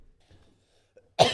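A single sharp, close cough breaks a near-silent pause and trails off quickly.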